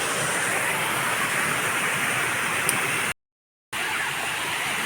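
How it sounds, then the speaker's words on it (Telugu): Heavily flowing village waterfall roaring as a steady, dense broadband rush that fills the whole clip, broken once by a brief dropout of total silence before the torrent resumes. "ఇదే మా ఊరు వాటర్ ఫాల్ అయితే వాటర్ అయితే చాలా ఎక్కువగా ఫ్లో అవుతుంది"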